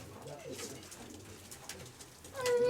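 Pigeons coo softly inside a pigeon loft, low murmuring calls repeating through the clip, with a louder burst near the end.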